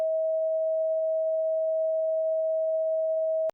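Censor bleep covering a bad word in Team Fortress 2 commentary: one steady, pure electronic tone held loud for about three and a half seconds, then abruptly cut off.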